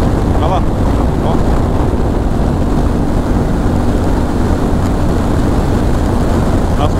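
Strong wind buffets the microphone during a road expedition near Colonia del Sacramento, Uruguay, making a steady, heavy rumbling roar that never lets up.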